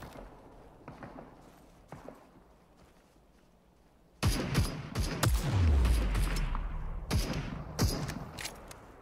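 Gunfire in the battle royale shooter Super People, starting quiet, then a burst of sharp shots and booming impacts with scattered single cracks afterward, loud and close.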